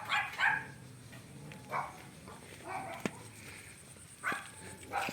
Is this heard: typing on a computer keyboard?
no